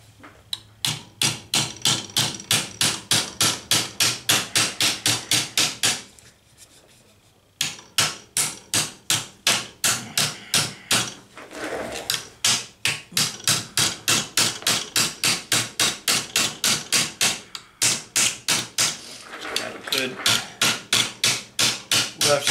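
A hammer taps a metal tail light part into place on a 1998 Chevrolet 1500 truck body, long runs of rapid, evenly spaced loud metallic blows, with short pauses between bursts.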